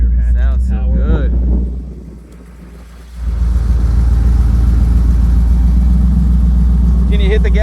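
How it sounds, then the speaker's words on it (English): A 1986 Chevrolet Camaro IROC-Z with a 383 stroker V8 idles with a steady, deep, loud rumble that dips briefly before settling back, while people talk nearby. "It idles good, it works"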